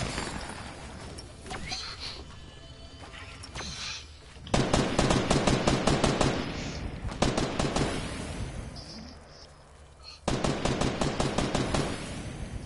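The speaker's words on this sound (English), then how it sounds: "I'm getting shot from east" Rapid automatic weapon fire in the Fortnite battle royale comes in three loud, evenly paced bursts, each a tight string of cracks, separated by quieter stretches of game noise and faint background talk.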